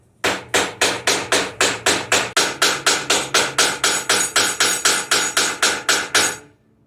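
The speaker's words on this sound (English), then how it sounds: "I'm going to peen this real quick, and hopefully it goes smoothly" Hammer peening a sword pommel, about twenty sharp metallic strikes in an even, rapid rhythm, each ringing briefly, close and loud with no talk.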